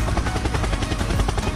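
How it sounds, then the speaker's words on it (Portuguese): A helicopter-style chopping drone used as a meme sound effect, fast rhythmic blade thumps over broadband roar, loud and continuous through the short moment. "Helicóptero, helicóptero."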